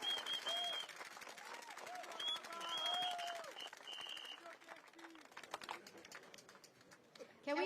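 A crowd claps at an outdoor Progress Singapore Party political rally at Catholic High School, a dense spread of applause mixed with voices, shouts and some whistle-like tones, gradually thinning toward the end.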